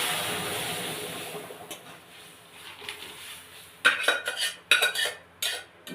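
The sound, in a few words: chana dal lentils stirred in a pan with onion masala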